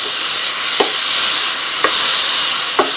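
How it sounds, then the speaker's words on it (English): Peaches and rice sizzle loudly in a hot frying pan, a bright constant hiss broken by three clacks of a spoon stirring, up close. "Our sizzle is real."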